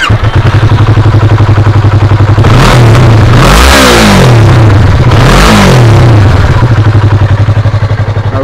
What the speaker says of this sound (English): Hold on, let me rev it real quick.